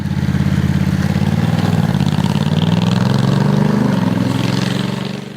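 A Honda Africa Twin CRF1100L motorcycle runs with a loud, close, pulsing exhaust note, holding a steady low throb that rises slightly in pitch and then eases off.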